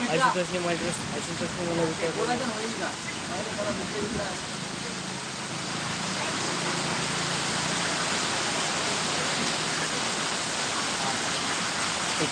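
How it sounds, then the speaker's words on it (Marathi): Heavy monsoon rain pours down steadily in a dense, unbroken hiss that swells slightly after the first few seconds, with a faint voice briefly audible at the start. "आमच्या इकडे खूप सारा पाऊस चालू आहे"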